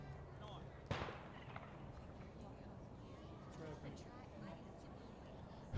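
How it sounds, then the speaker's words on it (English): A single sharp gunshot from a high school track meet cracks once and echoes faintly across a nearby baseball field, followed by low outdoor ambience. "Gunshots in the background."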